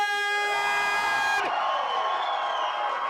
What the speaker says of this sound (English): a resounding cheer for the introduction